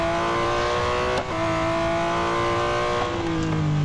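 A Porsche race car in the racing game Real Racing 3 accelerates with a loud, continuous engine whine. The tone holds steady and shifts slightly in pitch, with no talking.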